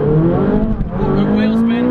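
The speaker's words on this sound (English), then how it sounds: "Good wheel spin." A Ferrari 458 Speciale spins its tyres while accelerating hard, its engine holding a loud, steady rising howl throughout, close and dominant.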